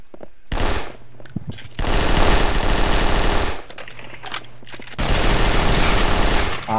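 Loud automatic gunfire from a competitive video game scrim, with long sustained bursts of rapid shots separated by short pauses, close and dominant with no talk over it.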